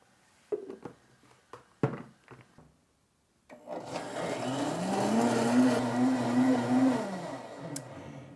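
A countertop blender whirs up sprouted oats, cashews and hemp hearts, starting after a few knocks and clatters and then running as a loud, steady motor drone with a rising pitch.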